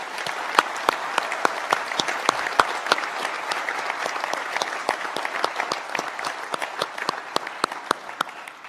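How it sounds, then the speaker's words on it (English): A graduation-ceremony audience at the University of Newcastle applauds its graduates, a steady round of dense clapping from a large hall crowd with sharp individual claps standing out throughout. "I wonder if you'd all join me in applauding the wonderful achievement of our graduates"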